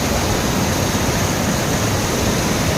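Berdebu waterfall on Malaysia's east coast roars as a constant, close, broadband rush of falling water, steady and unbroken with no voices over it.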